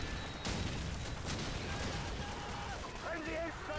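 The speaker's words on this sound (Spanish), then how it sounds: "Línea de fuego y de explosiones por las granadas." Bursts of gunfire and booming grenade blasts from Call of Duty 4: Modern Warfare crackle loudly and continuously, with a short rising call near the end.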